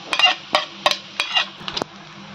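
Egg and noodles stirred in a hot pan over high heat, a utensil scraping and clinking in five or six quick strokes with a faint sizzle underneath, close and alone.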